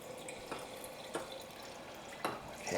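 Salt brine poured into a jar of shredded cabbage for homemade sauerkraut, heard as soft, sparse drips and splashes, close but faint, with a slightly fuller trickle at the end.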